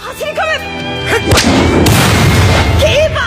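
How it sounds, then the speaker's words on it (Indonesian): In an animated soccer match, a sudden heavy thump and whooshing burst of noise from a hard ball kick cuts through voices, followed by a sustained roaring rush as a voice resumes. "Bola ditendang dengan keras oleh Izawa."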